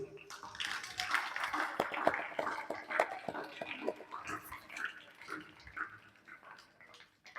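An audience at a yoga camp claps warmly to thank the principal, giving dense, sustained applause that fills the room for several seconds.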